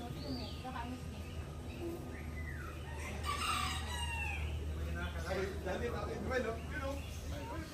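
At a zoo, a chicken gives quick clucks and a rooster crows in a brief rising call, near but not loud, amid people talking and a voice over a low background hum.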